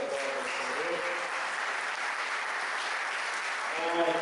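A church congregation applauds in a steady, dense wash of clapping, with a voice faintly audible at the start and end.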